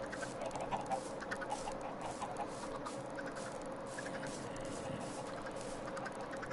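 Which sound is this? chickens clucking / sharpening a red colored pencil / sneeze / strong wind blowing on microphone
chickens clucking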